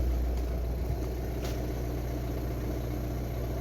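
A Ford Focus 3 with the 1.6 TDCi 115 hp diesel idles on a cold, wintry day after a fuel filter change, giving a steady low rumble that holds even and unbroken throughout, with no voices.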